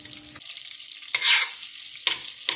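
Butter melts in a soup pot over low heat, with a soft sizzle and a few louder bursts of stirring and scraping.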